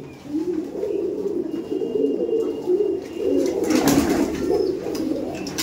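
Kabji pigeons cooing nearby in a loft in soft, repeated low warbling calls, several overlapping, with a brief rustle partway through.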